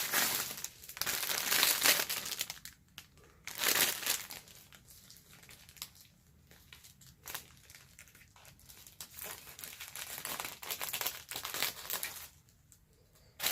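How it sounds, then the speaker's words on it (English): Foil shreds crinkle and crumple as they are handled up close while a Valentine's Day gift basket is assembled, in bursts of dense, bright rustling separated by quieter pauses. "I'm going to take this foil shreds that I also"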